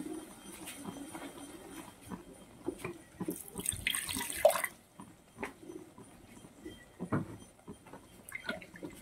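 In a kitchen, a brief burst of running water rinses ground spice paste into a pan, among soft scattered clinks and taps.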